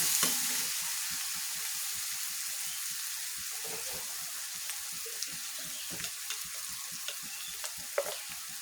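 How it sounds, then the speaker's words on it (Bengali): Small river fish sizzle in hot oil in a pan while being stirred with turmeric and coriander powder, a steady frying hiss broken by soft scraping and occasional clicks of the spoon against the pan. "দিয়ে দিলাম এখানে ধনিয়ার গুঁড়ো, দিয়ে ভালোভাবে নাড়াচাড়া করে নিই"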